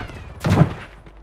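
A single loud sniper shot booms in a Call of Duty match, a sharp, heavy report with a short fading tail over quiet background.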